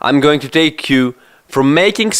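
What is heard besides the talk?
No distinct noise like a dog, phone or traffic.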